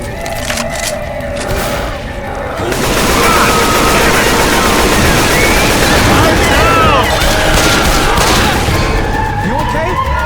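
Rapid bursts of automatic gunfire in Left 4 Dead 2 at a construction site, loud and dense fusillade running almost continuously, with game effects layered in and voices calling out.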